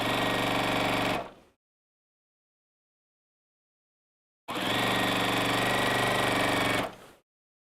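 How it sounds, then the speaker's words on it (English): A sewing machine stitches a pillowcase in two bursts of fast, loud whirring with a mechanical rattle; a brief run stops abruptly, silence follows for a few seconds, then a longer run starts and stops. "it sounds like it's sewing now, and there are the stitches"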